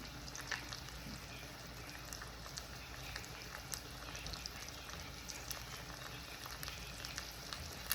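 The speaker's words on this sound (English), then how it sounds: "I'm going to fry 2 more steaks." Breaded steaks fry in a pan with a steady, dense sizzle and crackle throughout, loud and close, with scattered pops and no pauses.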